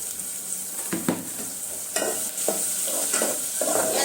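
Whole cardamom, bay leaf and cinnamon fry in hot oil for egg biryani, a continuous close sizzle broken by several scraping stirs of a spoon against the pan.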